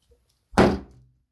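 A heavy meat cleaver slams once into a mobile phone in a destructive crash test, a loud close thud with a short rattling decay and no other sound around it.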